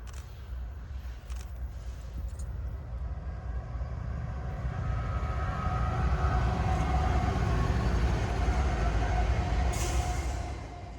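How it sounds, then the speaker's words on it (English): Norfolk Southern 25Z freight train rolling past a trackside spot in Rochester, a steady broad rumble of wheels and cars that builds slightly louder and holds for the whole stretch, close and continuous with no talk. "Back in Rochester, we see Norfolk Southern 25Z pass by, the same exact train which we saw in Hayesville."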